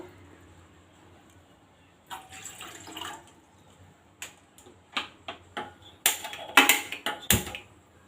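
Water splashes into a pot in a short close pour, followed by a run of sharp knocks and clatters.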